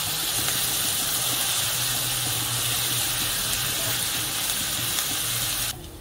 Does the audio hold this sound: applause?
no